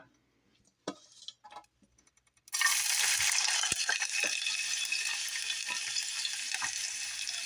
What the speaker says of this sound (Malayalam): ഇതിലോട്ട് നമുക്ക് ഉള്ളി ചെറുതായി കട്ട് ചെയ്ത് ചേർത്ത് കൊടുക്കാം